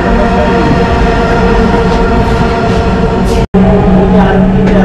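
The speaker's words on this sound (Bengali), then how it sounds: "এখানে অ্যাকচুয়ালি আরেকটি ট্রেন ক্রসিং হচ্ছে" A Dhaka Metro train rumbles past on the neighbouring track, a loud, steady rolling roar with rail hum from a halted carriage, broken by one brief cut before the noise resumes.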